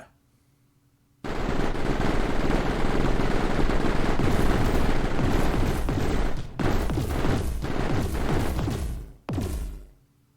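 A small gun turret in the game Mindustry fires in a loud, dense, continuous stream of rapid shots for most of the stretch, briefly pausing twice before resuming, with no talking over it.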